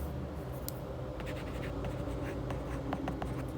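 Pen scratching steadily across paper while a math word problem is worked out by hand, with quick strokes and short pauses over a faint steady room hum.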